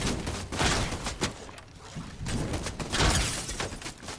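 Rapid bursts of gunfire from an online multiplayer shooter game, dense clusters of shots rising and falling over a few seconds, loud and continuous with no talk.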